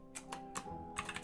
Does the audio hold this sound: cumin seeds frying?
no